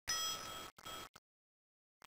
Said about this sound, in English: click the bell again